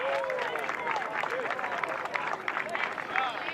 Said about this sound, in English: Gave the natives something to applaud there.